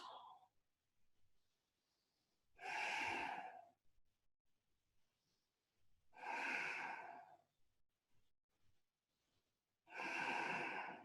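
Three slow, deep breaths, each a long, soft exhale a few seconds apart in a quiet room, taken while resting in yoga child's pose.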